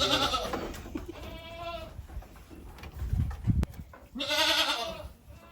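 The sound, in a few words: goats on a farm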